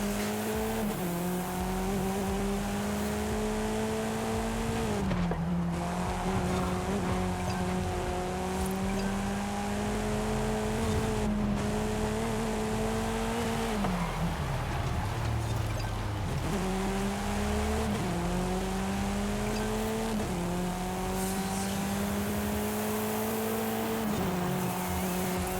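An MG7 from 2024 driving in the racing game Forza Horizon 5, its engine humming steadily with rising and falling revs, repeated gear-shift dips and occasional tire noise, loud and continuous with no talk.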